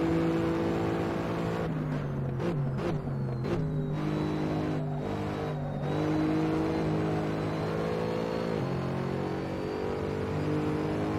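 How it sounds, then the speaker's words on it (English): A Mercedes SLS GT3 in the Assetto Corsa racing game revs hard at Monza, its engine note climbing and dropping through a quick series of gear changes, then holding a sustained drone. "Like the engine sound though."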